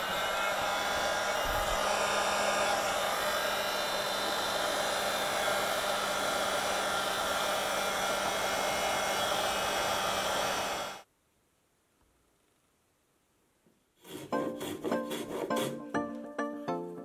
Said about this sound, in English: time for the dreaded heat gun